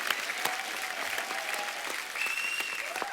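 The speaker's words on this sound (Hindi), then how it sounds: "और शिखर पाजी के लिए भी जोरदार तालियां।" Studio audience applause on a Hindi comedy talk show, a steady dense clapping that holds at an even level throughout with sharp individual claps and faint whistles on top.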